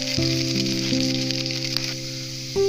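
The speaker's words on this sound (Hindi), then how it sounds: "अब हम जीरा डाल देते हैं 1 चम्मच जीरा" Cumin seeds hit hot oil in a kadai with a bright, hissing sizzle that runs steadily for a few seconds, close and loud, while a droning tone and a few clinks sound underneath.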